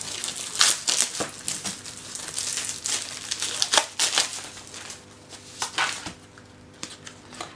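Crinkling paper or plastic wrapping is handled and torn open close up as a wrapped Stella & Dot jewelry lookbook is unpacked, in irregular crackling bursts with quieter pauses between them, and no one speaking.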